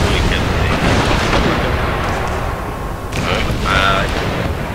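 Cannon and artillery fire in a Prussian campaign battle of Empire: Total War, a dense rumble of booms and bursts with sharper shots near the end, under ongoing game noise.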